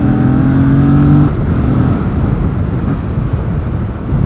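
A Yamaha FZ07 motorcycle in third gear at about 4,500 RPM, engine drone pulling hard as the throttle opens, heavy wind buffeting the microphone over the steady growl.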